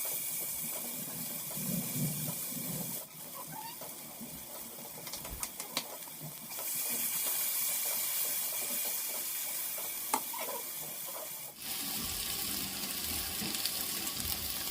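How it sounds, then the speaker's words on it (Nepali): Local tomatoes with a little salt are stirred and cooked in a pan for aloo dal, giving a steady, soft sizzle with scraping stir strokes and small clinks throughout. "अब हामीले चाहिँ टमाटर चलाउँदै पकाउनुपर्छ।"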